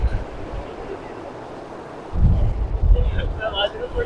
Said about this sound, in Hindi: ये दरिया की खूबसूरत सी आवाज़, क्या कमाल आवाज़ है